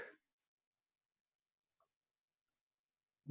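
A single computer mouse right-click, faint and sharp, sits alone in near silence, with a voice briefly at the start and end.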